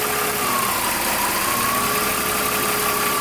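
A BMW E46 M3 idling with a faulty alternator: a steady engine rumble carrying a thin, constant whine that wavers slightly in pitch, loud and close throughout.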